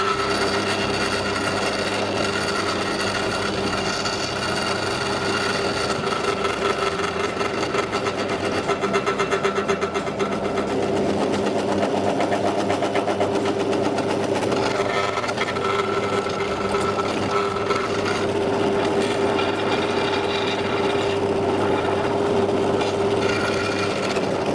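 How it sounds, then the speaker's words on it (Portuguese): A Parkside PTBM 500 bench pillar drill bores into a piece of wood, its motor humming steadily with a constant whine and a rough cutting rasp throughout, close and continuous with no speech. "vou virar este bocado de madeira e vou fazer outro furo"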